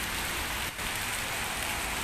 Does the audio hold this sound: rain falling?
yes